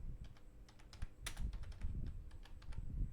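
Typing on a computer keyboard, close and fairly quiet, with irregular bursts of clicky keystrokes and a few sharper taps, no voice over it.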